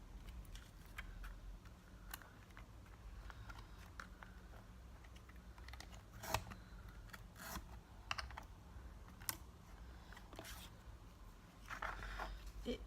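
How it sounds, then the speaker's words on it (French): Scissors trimming excess paper from a small letter A made with a mini alphabet punch board: quiet, irregular crisp snips and light clicks against a soft background hiss, close to the microphone, with no talking. "je vais venir couper l'excédent de papier pour obtenir ma lettre"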